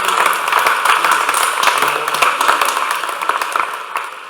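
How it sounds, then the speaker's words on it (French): Audience claps at a town hall New Year's greetings ceremony, a moderate burst of applause that gradually tapers off. "on peut les applaudir aussi."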